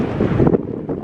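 Strong wind buffets the microphone on a hilltop on the Isle of Skye, a loud, rough roar that gusts and eases over a second.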